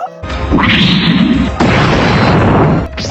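A loud blast erupts and roars on with a crashing rumble, then a second burst hits midway before the noise cuts off abruptly.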